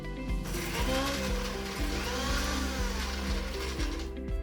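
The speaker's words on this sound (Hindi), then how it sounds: "तो चलिए पीसते हम मिक्सी में चटनी।" A kitchen mixer grinder runs loudly grinding chutney, its motor whine steady with rhythmic pulsing thumps as the contents churn.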